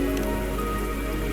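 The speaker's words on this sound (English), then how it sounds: "the rain won't last much longer" Steady rain pours down in the Wuthering Waves video game, a dense continuous patter on surfaces that fills the whole moment with no voices over it.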